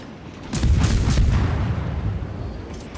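Warship guns fire in a naval combat video game, opening with a heavy low boom about half a second in, followed by rumbling, rolling artillery-like blasts that sustain and slowly fade, with no talking.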